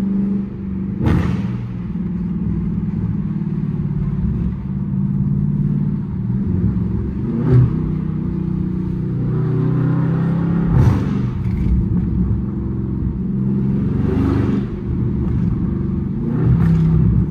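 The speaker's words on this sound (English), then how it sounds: "this thing is popping like crazy" A catless Chrysler 300 SRT engine rumbles steadily at night while sharp exhaust pops crack out at irregular intervals, several distinct bursts over the droning motor.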